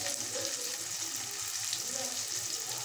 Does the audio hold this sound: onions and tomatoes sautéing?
yes